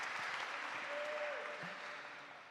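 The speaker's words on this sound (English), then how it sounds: "give him a round of applause" A church congregation at a Sunday service gives a round of applause, a soft, fairly distant wash of clapping that gradually thins and fades, with a faint tonal squeak briefly in the background.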